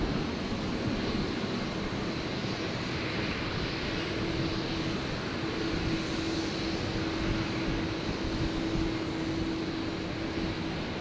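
A fixed-wing aircraft landing on runway 01 left at Brisbane Airport, heard as a steady, broad engine roar with a faint sustained tone that stays constant and fairly distant throughout, with no talking.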